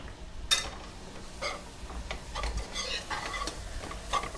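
A spoon stirring and scraping a flour and butter roux in a pan for mac and cheese, with soft intermittent scrapes and a faint sizzle, close and fairly quiet.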